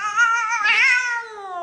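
A cat gives one drawn-out, clear meow that rises and then slides down in pitch. It sounds close and stands alone over a quiet background.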